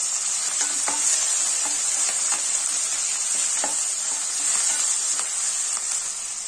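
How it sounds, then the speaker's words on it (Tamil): Tomatoes and curry leaves sauté in a hot pan with a steady bright sizzle and occasional stirring scrapes, close and continuous, no voices. "இந்த தக்காளி எல்லாம் நல்லா வதங்கிடுச்சு."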